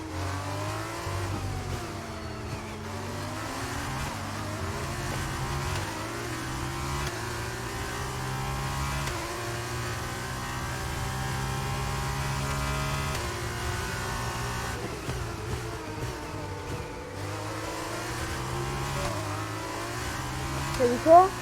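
A Formula 1 car accelerating in the video game F1 22, its engine rising and shifting through gears in a steady, continuous whine, with a person talking over it.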